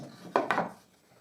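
The end of a wooden strip on a plywood vertical drill press table gets cut with two quick, close, rasping strokes that fade out fast.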